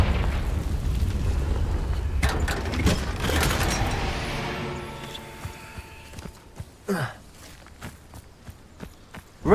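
In Hogwarts Legacy, a Confringo blasting curse explodes with a rumbling boom that decays over a few seconds, followed by scattered impacts, clatter and footsteps.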